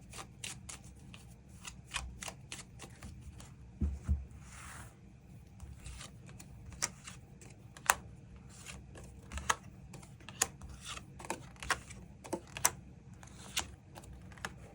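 Tarot cards being shuffled and drawn during a weekly reading, with soft papery riffles and scattered sharp flicks and taps at an irregular pace, close and fairly quiet, with no voices.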